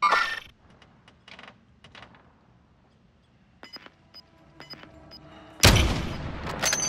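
Gunfire in the shooter Warzone: a few quiet distant pops and clicks, then one loud close shot near the end followed by ringing echo and noise.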